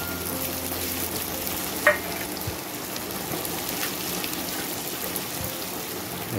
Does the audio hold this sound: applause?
no